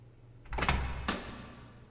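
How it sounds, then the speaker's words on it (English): Door in the video game 428 Shibuya Scramble swinging open, a short scraping burst followed by a second sharp knock-like hit, fairly quiet and heard alone. "The door swung open with a loud creak."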